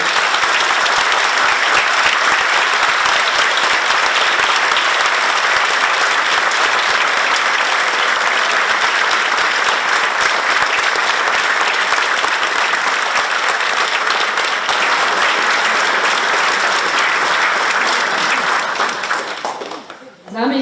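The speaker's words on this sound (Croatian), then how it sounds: "velikim i toplim pljeskom pozdravimo predsjednicu Republike Hrvatske" A large audience greets the president of Croatia, Kolinda Grabar-Kitarović, with loud, dense, continuous applause that fills the hall for about twenty seconds before abruptly dying away.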